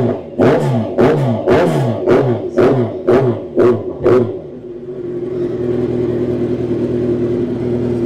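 A motorbike engine is revved in several quick sharp blips, about eight bursts in rhythm, then settles into a steady idle rumble. The sound is loud and close, with no voices.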